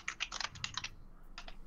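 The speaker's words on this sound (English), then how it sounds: "Man, that is really loud typing out there." Rapid, loud clacking of computer keyboard keys in quick bursts, a short pause, then a few more sharp keystrokes close by, with no talking.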